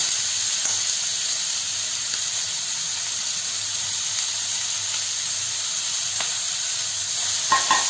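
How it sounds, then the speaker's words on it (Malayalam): Finely chopped ginger sautés in a pan, a faint even hiss of frying that runs throughout, with a couple of light taps at the end. "പിന്നെ നമ്മൾ ചെറുതായിട്ട് അരിഞ്ഞ് വെച്ചിരിക്കുന്ന ഇഞ്ചി ഇട്ട് കൊടുക്കുക. ഇതൊന്ന് വഴറ്റിയെടുക്കുക."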